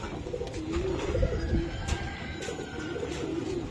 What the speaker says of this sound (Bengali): কবুতরগুলো।